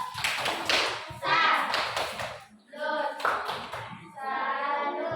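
A school class performs a rhythmic chanted clap routine, bursts of patterned hand claps alternating with children's voices chanting in unison, loud and close in a classroom.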